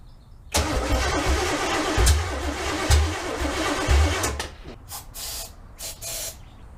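A 1965 Chevrolet C10 with a 454 V8 cranks on a start attempt during cam break-in, a close, rhythmic starter chug with steady hiss, ending in a few separate sputtering bursts.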